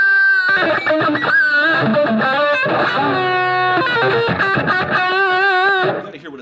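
Electric guitar played through a Bugera 333XL Infinium amplifier head with the noise gate turned up, held notes sustaining loudly and blooming into feedback with a distorted, chorused tone before cutting off at the end.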